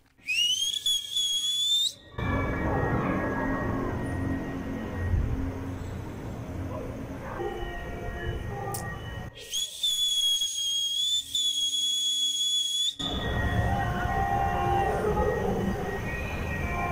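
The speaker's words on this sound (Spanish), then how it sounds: "Hubo intercambio de chiflidos para comunicarse de barrio a barrio" Whistling exchanged between neighborhoods in Taxco during a mass prayer for peace, heard as loud, shrill, sustained whistle tones in two bursts that alternate with a broad roar of outdoor crowd noise.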